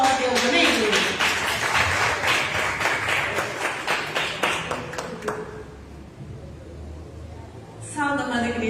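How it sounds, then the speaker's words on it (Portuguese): A church congregation claps together in fast, even applause that fills the space for several seconds, then fades out before a voice starts speaking. "As palmas ao Deus."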